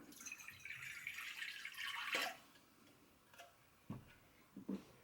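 Fourteen ounces of cool water pours steadily into a bowl of bread flour for about two seconds, then stops, followed by a few scattered drips and light clinks in a quiet room.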